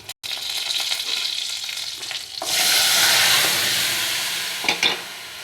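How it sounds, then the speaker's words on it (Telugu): Popu tempering frying in hot oil for bottle gourd dal, a steady loud sizzle that surges sharply halfway through as more goes into the pan, with no talking. "పోపు వేపుకుందాం. పోపు వేగిపోయిందండి."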